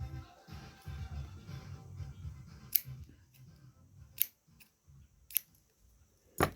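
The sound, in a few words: scissors cutting crochet yarn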